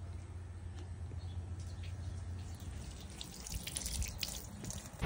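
A Swan Lake liquid transfer pump runs in a garage with a low motor hum while liquid trickles and splashes, faint and steady, rising a little toward the end.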